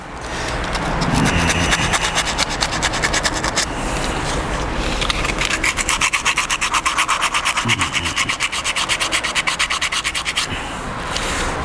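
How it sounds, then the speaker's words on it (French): The knock sensor on a GTI engine is scrubbed with a fast back-and-forth brushing or rubbing, loud and close, running in rapid strokes with a couple of short pauses, without talking. "Je vais nettoyer ici le capteur de cliquetis."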